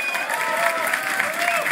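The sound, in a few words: crowd applauding at a fighting game tournament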